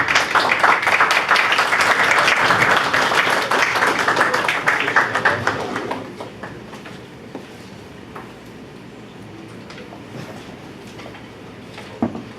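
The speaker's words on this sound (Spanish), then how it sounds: "Un aplauso para él." A lecture audience breaks into dense applause at the end of a talk, a loud, even wash of clapping that fades after about six seconds into quiet room noise with a few stray sounds.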